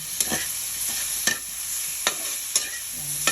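Pork sizzling as it fries in a pan, a steady bright hiss broken by about five sharp scraping knocks of a utensil stirring the meat, close and clear with no talk.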